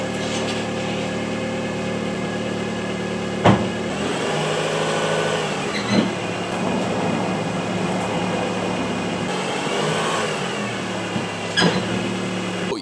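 A car engine runs steadily at a low idle with a few slight rises in revs as the car creeps forward onto ramps for a DIY oil change, with a couple of brief knocks and no talk.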